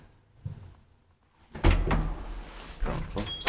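Original doors of an old Kone traction elevator opening or closing with a loud clunk and rumble, preceded by a quieter knock and followed by further sliding and thudding in an enclosed lift shaft.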